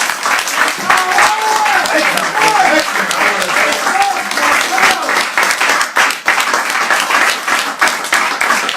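An elementary school crowd claps loudly and energetically for itself, sustained applause with whoops and cheering voices rising over the clapping.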